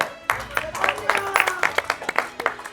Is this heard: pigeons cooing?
no